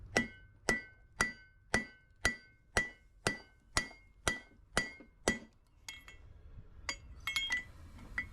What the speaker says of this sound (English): Where's me hammer? Hammer time.